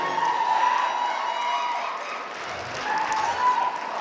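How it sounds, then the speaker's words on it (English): An audience at a poetry slam applauds and cheers for a poet, with steady, dense clapping and crowd noise throughout and a faint tonal ring running beneath. "Let's give her a round of applause."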